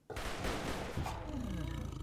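Suppressor cannons firing a signal volley in Rimworld on a tundra map, a sudden heavy burst of blasts with a roaring, rumbling tail that holds loud for about two seconds.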